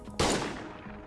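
A single loud gunshot fired in the video game Schedule I, a sharp broadband crack that decays into a short echoing tail, with no talk.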